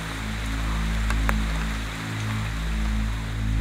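Steady rain falls in the Alaskan wilderness as an even, hissing patter, with a low droning hum running underneath and no talking.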